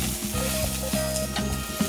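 Green onions sizzling in hot oil, a dense, close, steady crackle with a few sharp utensil knocks, brief and without talk.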